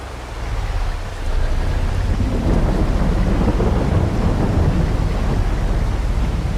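Steady heavy rain hisses over a deep rumbling swell of thunder that builds after a second and lingers without fading, in Farming Simulator 22.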